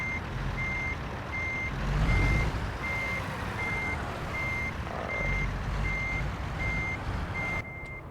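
A truck in American Truck Simulator backing into a parking spot, its reversing alarm beeping at an even, regular pace over a loud low diesel engine rumble.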